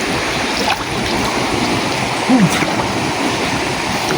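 Water of a river stream rushing steadily as it flows into a cave, a continuous broadband wash with a brief voice-like sound partway through.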